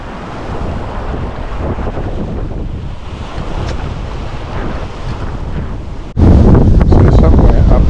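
Boat El Tiburon slicing through choppy water near Skye, with steady loud wind buffeting and rushing spray throughout, jumping sharply louder for the last two seconds.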